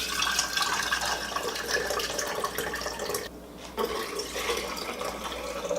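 Homemade elderberry syrup made in an Instant Pot pours through a canning funnel into a jar, a continuous close liquid stream with a brief break partway before the flow resumes.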